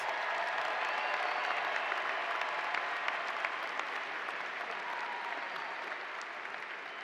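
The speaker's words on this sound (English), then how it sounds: "So let's have one more round of applause for the first half of our graduates." A commencement audience at a 2025 College of Liberal Arts ceremony applauds its graduates, a broad, even roll of many hands clapping that carries on steadily, slightly distant and without voices.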